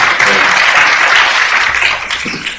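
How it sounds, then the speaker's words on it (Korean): Loud, close applause from an audience at a political discussion event on the progressive camp, a thick wash of clapping that holds briefly and then tapers off within a few seconds. "응원의 박수를 부탁드립니다"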